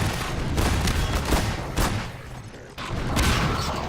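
Shotgun-wielding enemies in Half-Life 2 fire heavy, booming blasts in a quick uneven series, loud and close with a short lull before more shots.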